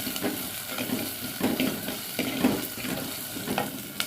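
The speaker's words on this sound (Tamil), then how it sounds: "நல்லா வதக்கி விட்டுருங்க வதங்கிட்டு இருக்கட்டும்" Peeled garlic sautés in a pan for okra tamarind curry, with a steady frying sizzle and repeated spoon stirring scrapes at a moderate, even level and no talking.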